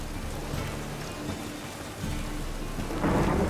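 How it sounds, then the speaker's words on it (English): Thunderstorm with heavy rain in The Witcher 3: Wild Hunt, a loud, continuous downpour hiss with low thunder rumbling underneath, swelling toward the end. "Storm, damn it."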